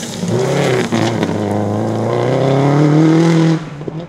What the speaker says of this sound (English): Bethany Cullen and Jasmine Lockley in the older Mitsubishi Lancer Evo were locked in a battle with Stuart Collison and Lance Arundel in the Subaru WRX